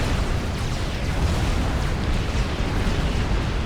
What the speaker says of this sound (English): look at that overcharge as half of Sandman's spam goes up in one horrific explosion